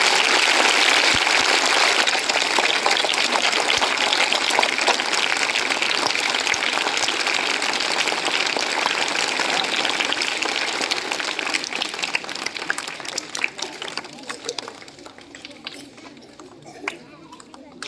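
Loud, sustained applause from a school audience that keeps going strongly, then thins out and fades over the last few seconds.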